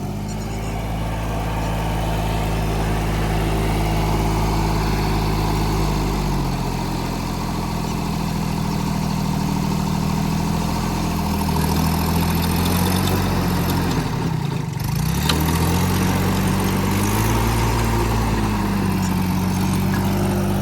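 A tractor's heavy engine chugs steadily at close range for the whole stretch, driving a mini rotavator, its low drone rising and falling slightly as the machine works, with no voices.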